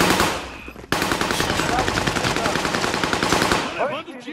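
Rapid automatic gunfire in Call of Duty Modern Warfare, a dense continuous stream of close, loud shots broken by one brief pause, with players talking faintly underneath.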